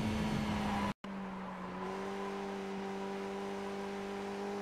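Skip Barber race car in the iRacing video game at Tsukuba, its engine holding a steady tone and then rising in pitch as it accelerates, close and continuous after a brief cut.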